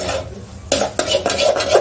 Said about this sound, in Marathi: हे बघा, आपण भाजलेला रवा तुपात टाकला।